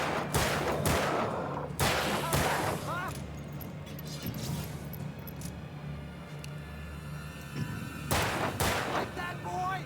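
Gunfire in the video game Alan Wake cracks out in loud bursts, a cluster of rapid shots early and another volley near the end, with a steady low hum of game ambience between them.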